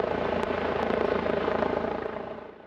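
Northwest MedStar critical care helicopter landing on Quincy High School's football field, a loud steady rotor thump and turbine whine close by that fades slightly near the end, no voices.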